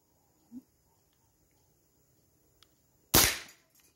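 PCP PR 900W G2 air rifle fired once at targets, a sharp close crack with a short decay, preceded by a faint click and a light tick, in an otherwise quiet setting.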